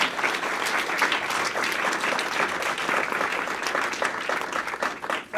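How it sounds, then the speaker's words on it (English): A conference audience applauds keynote presenters, sustained full clapping from a sizeable room that holds steady for several seconds before tapering at the end. "big round of applause for our presenters"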